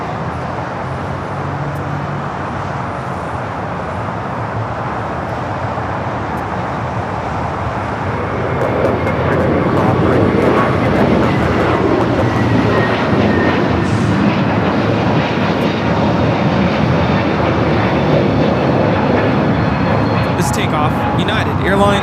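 An Air China Cargo Boeing 777 freighter takes off at LAX, a steady broadband jet roar that swells louder about a third of the way in and holds, with faint talk beneath.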